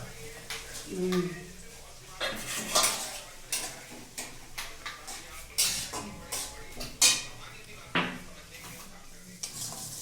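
Metal utensils scrape and clink rhythmically against a pot while ghugni cooks with a soft sizzle, the strokes repeating at a steady pace, with a brief voice near the start.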